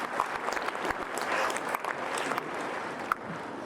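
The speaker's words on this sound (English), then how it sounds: "We can give him a great applause." Audience applause at an event honoring a guest, steady dense clapping from a crowd, moderately faint and heard from some distance.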